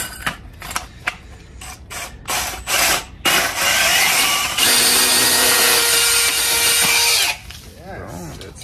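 A power drill bores through wood while relocating an electric meter, starting with short bursts and ratcheting clicks, then a sustained loud grinding run of a few seconds before cutting off, close by.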